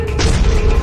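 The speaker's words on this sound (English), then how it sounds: "A giant boom." A giant cannon in the video game Fred's Cereal Company fires a single loud, close boom, with a deep low rumble that swells, holds and slowly fades.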